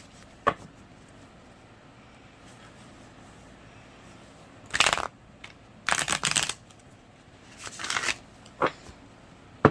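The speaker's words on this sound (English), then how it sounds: "Shuffle me for Aries for November 2021" Tarot cards are shuffled by hand in several short, crisp riffling bursts separated by quiet pauses, close and fairly loud in an otherwise still room.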